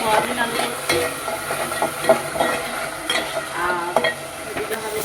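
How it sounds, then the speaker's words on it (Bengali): Pumpkin pieces sizzle in hot oil in a home kitchen pan while a spatula scrapes and stirs them in steady repeated strokes, the frying hiss continuous and close. "আর এদিকে হবে কুমড়ো ভাজা"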